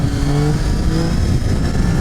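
Inline three-cylinder motorcycle engine revving close by, a loud continuous mid-range growl with rising and falling pitch, steady through the whole moment with no voices.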